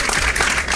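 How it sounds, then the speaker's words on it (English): Dense applause from an event audience in Akwa Ibom State, a broad continuous wash of clapping that is loud and fills the whole short stretch. "put your hands together for them"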